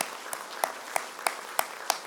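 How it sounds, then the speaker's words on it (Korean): A church congregation claps in an even, steady rhythm, about seven distinct beats spaced roughly a third of a second apart, moderately close over a quiet room hiss. "우리 박수 한번 합시다."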